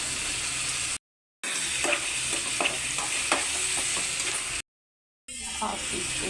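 Mutton frying in a pan with onions for a curry gives a steady hiss, with a series of close stirring scrapes. The sound cuts out twice to brief silence.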